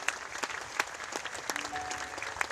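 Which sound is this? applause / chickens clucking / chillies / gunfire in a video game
applause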